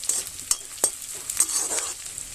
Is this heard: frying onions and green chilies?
yes